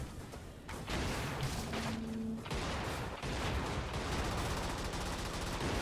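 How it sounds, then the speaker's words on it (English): Dense, continuous heavy gunfire from the video game Brigador: Up-Armored Edition roars without pause, rapid overlapping shots and booms forming a loud, sustained wall of battle noise. "just the sound of that like heavy gun I have or whatever."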